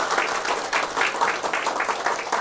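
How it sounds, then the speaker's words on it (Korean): A church congregation claps in thanks, a full, even burst of applause from many hands filling the room, short and sustained with no speech over it. "박수 드리겠습니다."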